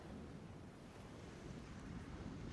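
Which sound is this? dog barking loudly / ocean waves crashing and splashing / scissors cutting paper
ocean waves crashing and splashing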